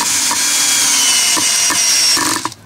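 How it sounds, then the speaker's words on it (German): A power tool drives screws to fasten a wooden log, giving a continuous high, loud whine with a few brief knocks before it winds down and stops at the end. "dann schraube ich den Stamm fest"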